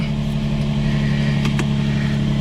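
A Nissan 350Z engine runs steadily after a starter repair, a close, loud, even hum with no gaps, in rain.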